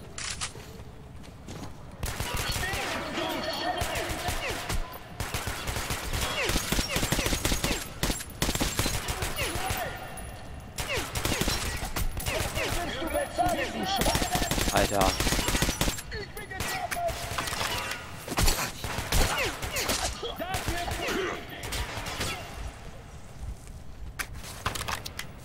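Dense, near-continuous automatic gunfire from the first-person shooter Metro Last Light rattles in loud, sustained bursts with brief lulls, heavy and close throughout.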